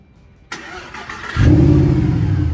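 A 2011 Mercedes SLS AMG with a 6.2-litre V8 fires up with a sharp start, settles briefly, then swells into a loud, deep, steady rumble close by, with no voices.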